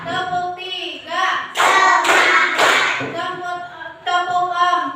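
Hands clap in unison during a classroom clap routine, dense bursts of group clapping mixed with children's voices and an adult counting along.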